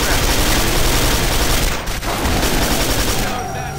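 Rapid machine gun fire in the PC shooter Quake 4 crackles loudly in a dense, continuous burst, with a short break near the middle before the bursts resume and then taper off.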